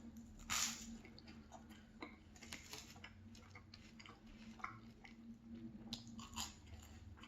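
Buttered toast is bitten and chewed close up, with a sharp crunchy bite early on followed by soft repeated chewing and crunching clicks at a low level, without talking.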